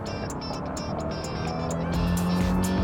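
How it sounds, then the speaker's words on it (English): A 2024 Subaru Impreza Sport-tech AWD accelerates at full throttle, the engine note building steadily under a continuous road and tire roar heard from inside the cabin, growing louder toward the end. "let's take it for a quick little rip. Quick with the brakes, quick with the throttle. Let's go, fully throttled."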